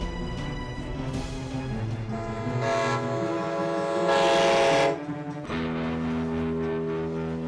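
A passing train in a film sounds its horn in long sustained blasts over a steady rolling rumble, loud and close, swelling in the middle before easing, with no talking.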